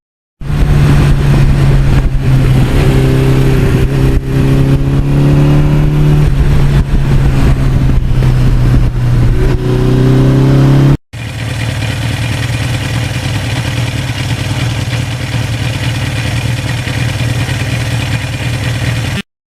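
A 1982 Suzuki GS1100E motorcycle engine with an aftermarket exhaust rumbles loudly up close, idling with a deep throaty exhaust and a few revs, then cuts off briefly before idling again.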